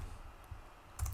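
Faint keyboard typing at a computer: a few soft key clicks, with a slightly louder cluster near the end, alone over quiet room noise.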